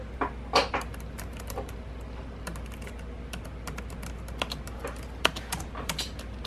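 Rapid, irregular clicks of typing on a computer keyboard, close and fairly quiet, with a few sharper key strikes standing out against a steady low background hum.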